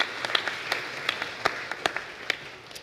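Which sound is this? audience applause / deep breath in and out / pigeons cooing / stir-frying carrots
audience applause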